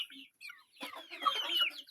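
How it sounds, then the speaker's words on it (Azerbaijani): Chickens and a rooster cluck softly in a backyard flock with young Sussex birds, a few short faint calls followed by a busier burst of overlapping clucks nearby. "Bu da qəşəng xoruzdur"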